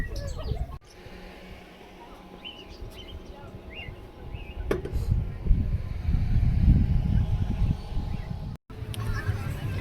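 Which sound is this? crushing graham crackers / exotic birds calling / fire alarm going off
exotic birds calling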